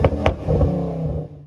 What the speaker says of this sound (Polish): No wydech lekko przesadzony